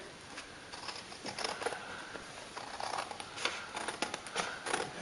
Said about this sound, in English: I'm just going to cut out around my card